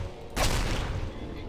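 A single sudden gunshot in a zombie survival shooter cracks out at full loudness and leaves a sustained, broad rumbling tail, with no other sound on top.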